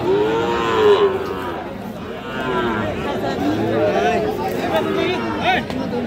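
Cattle, including Sahiwal bulls and calves, mooing loudly and repeatedly at close range in a livestock market amid a busy crowd with overlapping voices and chatter.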